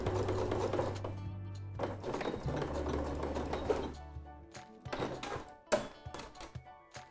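Sewing machine stitching a fabric coin purse, with steady motor runs broken into short bursts and pauses, several clicks and thumps of handling between stitches, close and alone with no talk.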